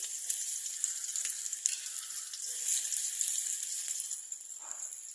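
Cumin seeds and chopped garlic frying in hot oil, a steady, moderately quiet sizzle with small crackles and pops throughout.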